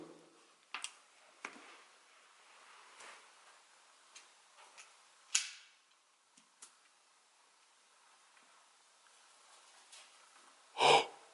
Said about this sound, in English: It's like scratching.